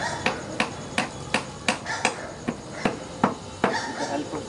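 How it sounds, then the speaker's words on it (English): Hammer driving nails into wood while building a wooden rabbit trap: about a dozen sharp, evenly spaced strikes, close and loud, one roughly every third of a second. "With the help of hammer and nails."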